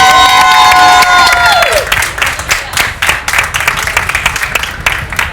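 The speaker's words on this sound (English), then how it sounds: "With a show of applause." Audience applause and cheering at a monster and horror convention animatronics demo, rising out of a sustained musical tone at first, then dense clapping with scattered shouts filling the rest, loud and close.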